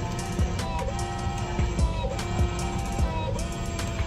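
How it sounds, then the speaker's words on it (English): A small printer churns out chronograph results after an airgun suppressor test, a close, steady mechanical whir with rhythmic clicking and feed ticks repeating through the whole stretch. "Okay, and while it's printing out,"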